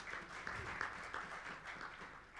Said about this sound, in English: So I do think we should give ourselves all a round of applause.